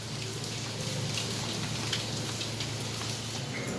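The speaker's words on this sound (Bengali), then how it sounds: "রোদ্দুরের পরে আবার বৃষ্টি নেমে গেছে" Rain falls outdoors at a Sunday market after a sunny spell, a steady dense hiss of drops pattering on surfaces, close and even throughout with no voices.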